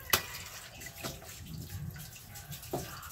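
Tap water filling containers at home at night, a soft continuous splashing stream with a few louder splashes and knocks, heard alone and fairly quiet.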